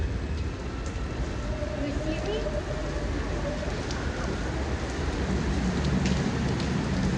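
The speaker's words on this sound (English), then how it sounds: "rain is still pouring like crazy" Heavy rain pours outdoors in a steady, dense hiss with a dull drumming on surfaces, continuous and loud throughout.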